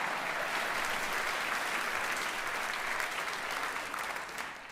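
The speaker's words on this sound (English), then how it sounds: "Yes, let's give a round of applause for that." A crowd at a college commencement ceremony applauds in a steady, fairly distant roll of clapping that fades gradually in the final second.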